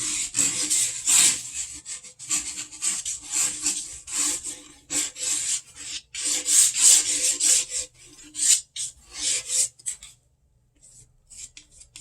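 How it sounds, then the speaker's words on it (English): A palette knife scrapes oil paint and cold wax across Arches 140lb oil paper in repeated close, rasping strokes with brief pauses, quieting near the end. No one speaks. "this is just another palette knife, and do some marks in it and scrape down to some of that color that was in there"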